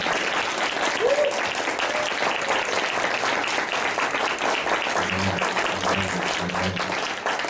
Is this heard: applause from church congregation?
yes